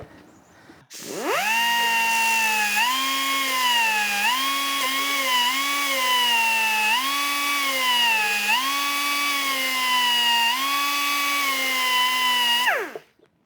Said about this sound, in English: I'm switching from the 3/4 inch belt sander to the 1/4 inch belt sander. I'm just going to chamfer.